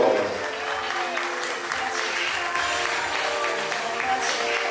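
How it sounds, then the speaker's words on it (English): Party guests at a quinceañera celebration break into steady, sustained applause, a dense wash of clapping that holds at an even level throughout with a faint murmur of the crowd mixed in. "A round of applause, ladies and gentlemen."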